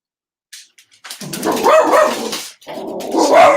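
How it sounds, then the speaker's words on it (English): A pet dog barks excitedly in a loose run of yips and woofs, starting with a few short sounds and building into a sustained, loud, close burst with a brief pause before more. "Now my dog's all excited."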